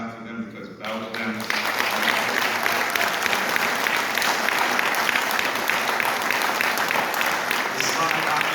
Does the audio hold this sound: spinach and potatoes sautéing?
no